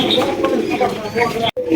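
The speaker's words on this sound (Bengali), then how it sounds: "আমরা কিন্তু এখানে আরো এক জোড়া ডেনিশ কবুতর দেখতে পাচ্ছি" Soft, low coos of Danish pigeons repeating close by at a pigeon farm, with a person talking over them.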